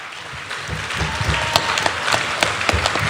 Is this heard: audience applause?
yes